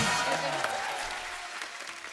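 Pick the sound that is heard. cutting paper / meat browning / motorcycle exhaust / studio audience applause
studio audience applause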